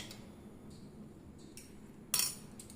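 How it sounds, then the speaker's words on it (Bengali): A spoon stirs aspirin dissolved in water in a glass, giving a few faint, sparse clinks and light taps against quiet background, with one sharper, louder clink near the end. "চামচ দিয়ে ভালো করে নেড়ে নিলাম"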